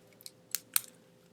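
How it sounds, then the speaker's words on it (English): A few short, faint scratchy strokes of writing on a board, three or four quick marks spaced apart in a quiet room. "So let me write that down"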